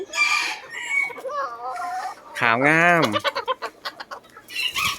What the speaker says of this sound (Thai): นำเสนอน้องไก่สีขาว